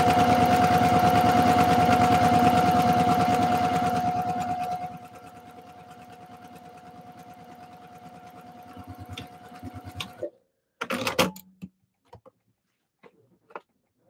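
A sewing machine stitching a tutu runs in a steady, loud, rapid mechanical chatter for about four seconds, then slows and stops, followed by scattered clicks and handling knocks.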